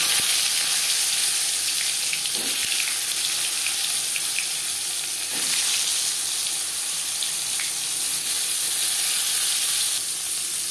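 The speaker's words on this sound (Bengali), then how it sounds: "তেল গরম হয়ে গেছে, এবার দিয়ে দেব ম্যারিনেট করে রাখা পটল।" Marinated pointed gourd (potol) frying in hot refined oil, a steady close hiss and sizzle that runs without a break, with a few soft crackles and no voices.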